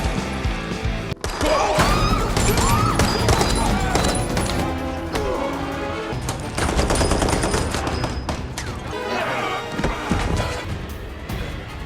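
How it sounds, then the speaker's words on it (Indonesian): Loud, sustained bursts of rapid gunfire and heavy impacts from a shootout in an action film fill the scene, dense and chaotic, with occasional crashes layered in. "terjadilah aksi tembak-tembakan yang cukup brutal"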